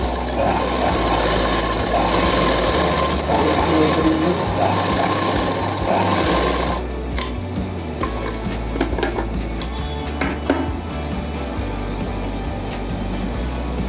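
A sewing machine runs a steady, loud stitching burr while doubling the seam on a palazzo pant, then drops to a lower, quieter hum with faint clinks midway through.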